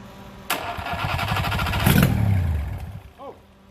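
An old two-stroke engine cranks and catches, clattering and building to a brief loud rev before dropping away, close and rough, with a short sound near the end.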